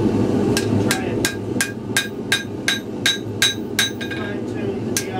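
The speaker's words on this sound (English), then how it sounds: "so go back to my 3-pound hammer" Steady, ringing blows of a 3-pound hammer forging a steel dagger blade, about a dozen evenly spaced strikes, close and sharp, with a low background hum.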